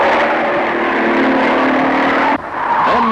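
A race car in the 1968 Hardie-Ferodo 500 at speed on the track, with a loud, close engine roar that holds steady and then drops off sharply near the end as it passes, no talk.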